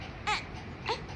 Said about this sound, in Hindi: अब जो बच्चा रो रहा है ना देखो उसको।